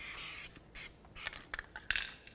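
Parts cleaner sprayed onto the rear brake hub of a 2004-12 Chevy Malibu, heard as several short aerosol hisses of varying length, fairly close and in quick succession.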